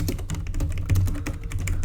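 Rapid, steady typing on a computer keyboard, a close, continuous stream of key clicks with no speech over it.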